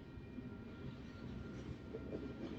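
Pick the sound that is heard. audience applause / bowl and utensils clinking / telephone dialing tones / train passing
train passing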